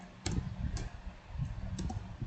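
A few quick keystrokes on a computer keyboard while typing a Windows Server command, light sparse clicks close to the microphone over a low background rumble.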